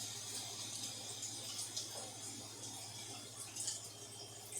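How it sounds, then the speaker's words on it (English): Tap water runs steadily into a kitchen sink as hands are rinsed after breading fish, a soft, continuous splashing hiss that stays fairly faint against a low background hum. "rinse your hands off real quick"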